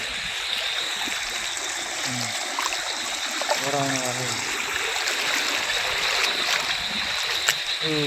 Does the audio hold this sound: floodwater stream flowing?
yes